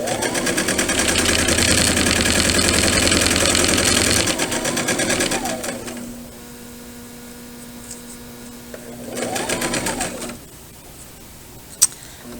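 A sewing machine runs a fast, steady whirring stitch for several seconds and stops, then a shorter second burst follows as it back stitches, close by with a faint hum in between.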